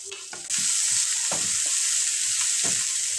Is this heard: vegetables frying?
yes